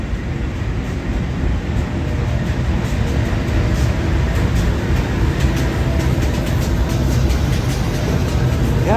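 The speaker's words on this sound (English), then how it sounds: "We have locomotives NR10, NR47 and NR41 pulling this freight train through platform 1 here." A freight train hauled by locomotives NR10, NR47 and NR41 passes through platform 1 at Gosford station, a loud, close, continuous rumble of wheels and engines with a faint squeal rising near the end.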